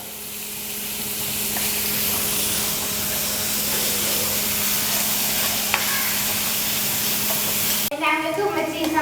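Onions sauté with salt in a pan for stuffed squid, giving a steady close sizzle for most of the stretch before an abrupt shift to clattering stirring at the end.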